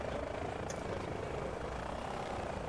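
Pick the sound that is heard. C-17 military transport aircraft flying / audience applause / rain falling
C-17 military transport aircraft flying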